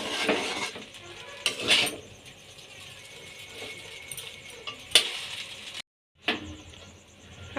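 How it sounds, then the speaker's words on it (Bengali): Chowmein tossed with spices in a home kitchen pan, with scraping and clinking of a spatula against metal, a few sharp louder knocks and a light sizzle underneath, close and without talk. "এবার ভালো করে মশলাটা চাউমিনের সাথে মিশিয়ে নিতে হবে।"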